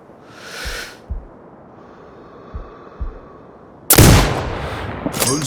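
Sniper rifle fire in the video game Sniper Ghost Warrior Contracts 2: a few soft thuds spaced apart, then a sudden loud blast near the end followed by a second sharp report, with an instructor's voice faintly in between.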